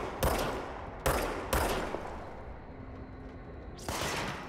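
Enemy gunfire in the video game Control, four sharp shots spaced irregularly over a few seconds, each with a short echoing tail and a faint electronic hum between them.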